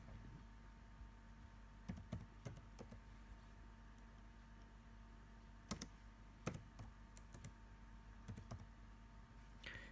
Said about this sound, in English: So I'm just going to type it in there so I can find it.